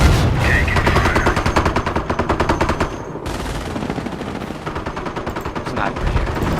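Sustained automatic gunfire in the World War II strategy game Company of Heroes, set in Normandy at Cherbourg: loud, dense machine-gun bursts rattle continuously, with a brief dip midway before the firing resumes.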